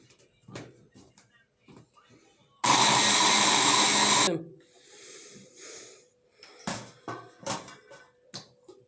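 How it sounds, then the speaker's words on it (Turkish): A food processor chops a whole raw onion for çiğ köfte in a home kitchen: one loud, steady whirring burst of under two seconds, with quieter kitchen clatter and breathy sounds before and after. "Bunu da robottan çekeceğim."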